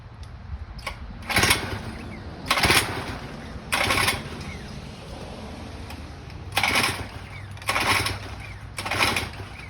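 A 3.5 hp outboard motor in need of a carburetor clean runs unevenly, its steady idle surging into loud revs about six times in an irregular rhythm, close by.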